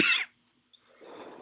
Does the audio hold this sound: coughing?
yes